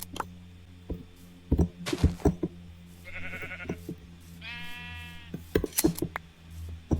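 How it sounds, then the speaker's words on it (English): Sheep bleating in the Minecraft video game, two short wavering bleats a few seconds apart amid clicks and small game noises, with no talking. "we should be fine getting these sheep"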